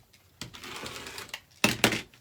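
Scissors cut through white decorative mesh in a few separate crisp snips and rustles, close by and moderately loud, with quiet gaps between strokes.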